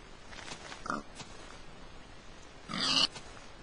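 A Minecraft pig oinks twice, a short snort and then a louder, longer grunt, both close and clear over a quiet background.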